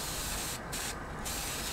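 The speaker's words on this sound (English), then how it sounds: "see how at the end of it, it doesn't spray consistently?" A spray paint can sputters unevenly as primer is sprayed on a railing, a steady close hiss broken by two brief dropouts as the can runs nearly empty.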